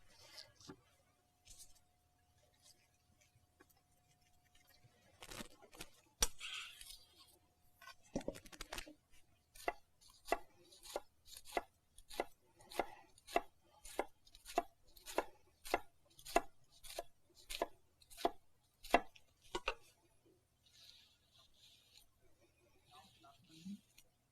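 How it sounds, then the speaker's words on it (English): A very sharp knife chops an onion on a cutting board, starting with a few scattered cuts and then settling into a steady run of quick, crisp, evenly spaced knocks, close and fairly quiet, with no speech over the chopping. "because my knife is so sharp, I can go through this onion so easily"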